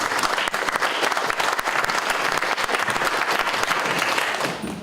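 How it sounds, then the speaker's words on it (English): An audience at a community forum on immigration on Martha's Vineyard gives a round of applause, dense, steady clapping throughout that begins to thin out toward the end. "let's give him a round of applause."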